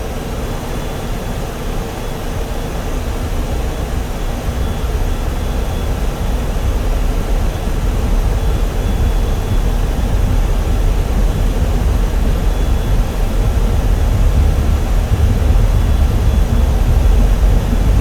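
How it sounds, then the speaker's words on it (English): Jet aircraft in Digital Combat Simulator rolling down the runway and lifting off, a steady loud roar of engine and rushing air building slightly and holding throughout, with no voices. "Gently pull back on the controller and allow the aircraft to fly itself off the runway"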